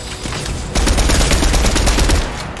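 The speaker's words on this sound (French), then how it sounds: "Tire dessus, faut que tu tires dessus." Rapid bursts of gunfire shooting at an enemy in a Star Wars-skinned shooter video game, loud and continuous with dense overlapping shots that intensify partway through.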